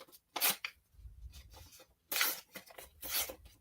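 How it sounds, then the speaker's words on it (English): Paper torn from a page during a crafting demo, heard as bursts of dry ripping spread over a few seconds, with quieter rustling between the tears. "I'll just rip some of this off"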